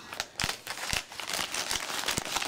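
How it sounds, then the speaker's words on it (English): Plastic packaging around a Lamicall tablet pillow holder is cut open with scissors, giving close, loud crinkling and crackling with a few sharper snips, steady through the short stretch and with no talk. "I'm going to take a pair of scissors and I'm going to cut this open."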